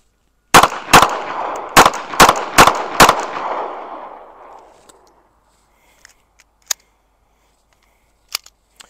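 A Smith & Wesson Bodyguard .380 pistol fires six sharp, loud shots in quick succession, echoing off into silence, followed by a few faint clicks and clacks of handling.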